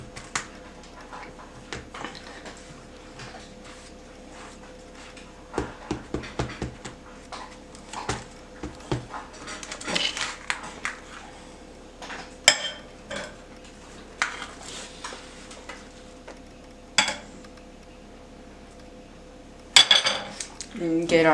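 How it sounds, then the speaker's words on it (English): Cutlery clinks and scrapes against a plate while a slice of homemade pumpkin pie is cut, with scattered taps and clatters, a few sharper knocks near the end, over a quiet room hum. "Let's cut ourselves a nice slice of homemade"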